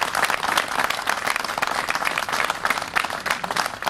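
Crowd applause at a municipal building land-handover ceremony, a dense, steady wash of many hands clapping that stays fairly loud and even throughout with no break.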